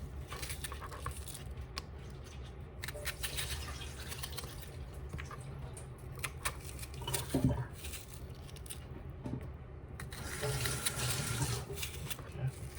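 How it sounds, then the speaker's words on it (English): Water runs from a tap in a home kitchen as a knife is rinsed during preparation of Jamaican brown stew fish, a steady splashing wash with a few clinks, under a continuous hiss and a voice nearby. "You wash the knife for me?"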